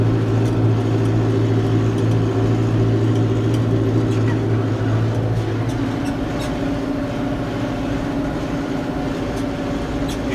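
A New Holland TD90D tractor engine drones steadily at around 1700 rpm while driving and pulling equipment, with a low hum that shifts pitch midway and faint rattles on top.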